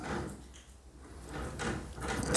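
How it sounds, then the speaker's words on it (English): Flap-like thumps and rustling as a dog pushes through a small swinging doggy door, with a couple of broadband knocks near the end. "That's a dog coming to the doggy door."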